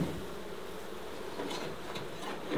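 Honey bees buzzing around an opened bee box during brood comb swapping from a cut-out colony, a soft continuous hum with a few louder passes of individual bees near the listener.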